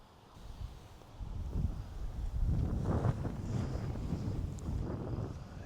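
Gusty wind at a grass airfield near a lake buffets the microphone, swelling from a light breeze into strong, rumbling blasts that continue unevenly.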